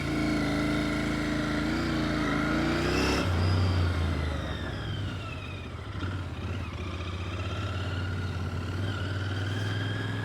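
A Royal Enfield Interceptor 650 motorcycle engine is ridden, a loud and steady running drone with rising and falling revs and a gear change partway through, heard close and alone.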